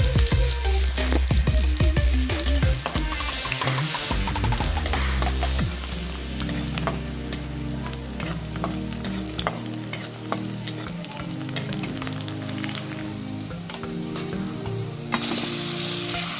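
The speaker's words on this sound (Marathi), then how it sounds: "कांदा घालूया कांदा चांगला लाल भाजून घेऊया" Onions frying in a pan for a Maharashtrian prawn fry, a loud continuous sizzle and crackle with dense scraping stirs, heavy at first and settling into a steadier hiss.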